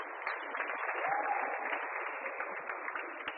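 An audience at a postgraduate research gathering claps in sustained, even applause, a dense patter of many hands at moderate distance with no voices.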